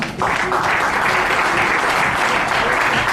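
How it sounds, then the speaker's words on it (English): Sustained applause from an audience at an award ceremony, steady and full after a brief lead-in, filling the whole moment without pause. "I think this calls for a round of applause as well."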